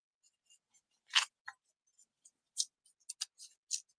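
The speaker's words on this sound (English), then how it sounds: "these nail scissors are so much easier to use than a normal pair of scissors" Small nail scissors snip through paper for a collage in short, sparse, crisp cuts, quiet and close with gaps between them and no voices.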